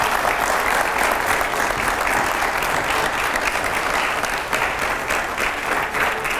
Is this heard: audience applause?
yes